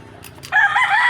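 A rooster crows loudly and close at a backyard coop among a flock of chickens, one bright call breaking in after a moment of quiet clucking.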